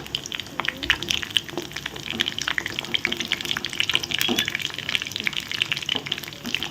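Kara bonda made from idli batter fries in hot oil with a constant bubbling, crackling sizzle, busy and close, with scattered sharp pops throughout.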